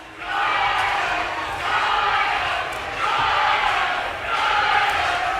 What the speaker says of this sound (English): Well, have a listen to the crowd here as well.